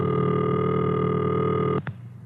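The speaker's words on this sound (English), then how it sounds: "And this is the ringing signal." A steady ringing signal from an old rotary-dial telephone line holds evenly, then cuts off abruptly near the end, followed by a short click and quiet.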